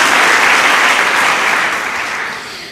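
A church congregation breaks into loud, sustained clapping that holds steady and then begins to fade toward the end.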